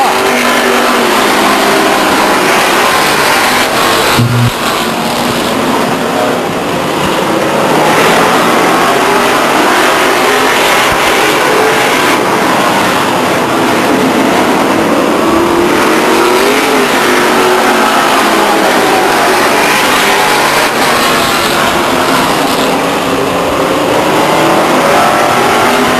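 Race cars roar around the oval at Stockton 99 Speedway, engines droning loud and continuous as a tight pack bunches into the turn, with no break in the noise.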